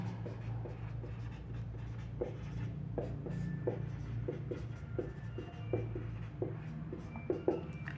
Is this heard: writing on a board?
yes